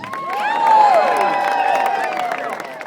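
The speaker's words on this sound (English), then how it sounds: "These finishers are getting all the applause." Outdoor crowd at a charity cycling ride finish in Steamboat Springs, a steady wash of applause and cheering with whoops and voices rising and falling over it, moderately close and sustained throughout.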